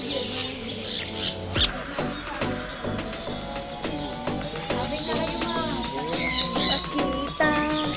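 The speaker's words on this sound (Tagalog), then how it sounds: "There's a bird there." Birds calling inside the Philippine Biodome, a mix of chirps, squawks and coos scattered throughout, some near and sharp, over background chatter and people talking.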